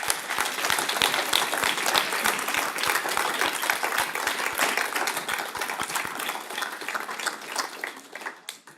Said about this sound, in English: Can we just give them all a round of applause?